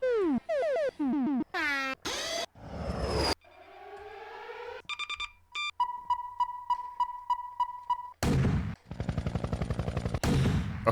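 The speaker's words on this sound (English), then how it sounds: "It's kind of a gunshot sound there we can probably just use just before the drop." A gunshot sample for a speed garage track bursts out among a rapid string of other synthetic effects: chirps, sweeps, beeps and stuttering electronic hits, all loud and abrupt with no voices.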